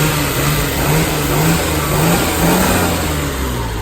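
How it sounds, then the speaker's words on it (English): A 1995 Bayside Blue Nissan Skyline R33 GT-R engine revs continuously and loudly up close, a steady roaring drone with rising and falling pitch. "let's boost up the car a couple of times and let's listen to this music of the car"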